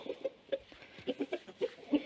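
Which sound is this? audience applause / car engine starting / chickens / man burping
chickens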